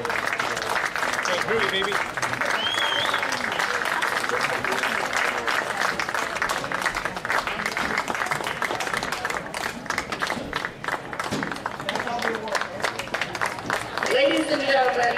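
A crowd at an Indiana lacrosse all-star event applauds award winners, with sustained dense clapping, a few cheers and people talking over it throughout.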